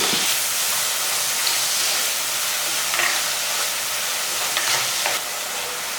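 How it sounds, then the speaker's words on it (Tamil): Tomatoes and onions sautéing in hot oil with salt for a South Indian meen kulambu fish curry, producing a loud, continuous close-up sizzle and hiss with occasional soft stirring. "இந்த தக்காளியெல்லாம் நல்லா வதங்கணும்."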